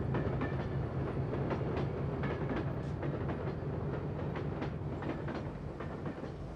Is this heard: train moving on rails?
yes